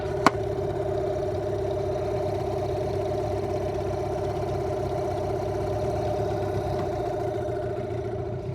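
Two-stroke outboard motor on a custom-built 16 ft fiberglass skiff, started with a pull cord and settling into a steady, even idle with a constant hum throughout, close and alone with no talk.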